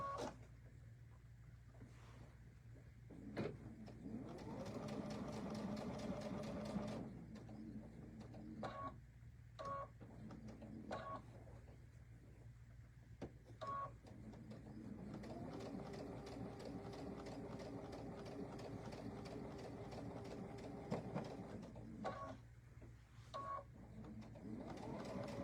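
A sewing machine runs straight stitches to outline letters, producing several quiet whirring runs of rapid needle clatter separated by short pauses, with low room noise and some faint speech.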